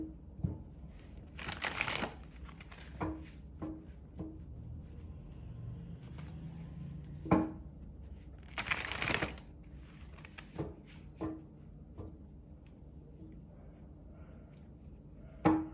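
Tarot cards are shuffled close by, with two longer riffling bursts and scattered soft taps and flicks of the deck in a quiet room.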